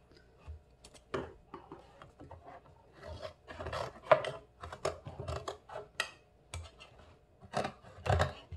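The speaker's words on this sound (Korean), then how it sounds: "여기를 이 선대로 잘라주세요" Scissors snip through paper along an outline while cutting out a paper toy car, giving a close, uneven run of short crisp cuts and rustles with brief pauses.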